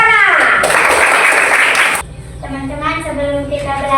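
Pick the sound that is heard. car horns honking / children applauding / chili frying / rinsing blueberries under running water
children applauding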